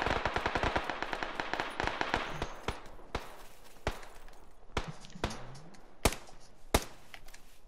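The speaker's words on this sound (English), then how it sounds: "I hear shots over there" Gunfire in the battle royale game PUBG: a rapid automatic burst at the start thins into scattered single shots that ring out sharply, some closer and louder, with quiet gaps between them.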